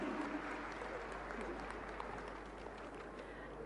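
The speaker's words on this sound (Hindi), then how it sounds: "तो जोरदार तालियां उनके स्वागत में।" Audience applause at a women's empowerment event in Madhya Pradesh, a soft, distant, even patter of many hands that continues steadily and fades slightly toward the end.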